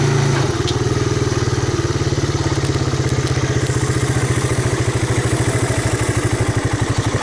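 A 1985 Honda Big Red ATC250ES three-wheeler idles close by with a fast, even, thumping putter and a light mechanical clatter, running steadily on its own.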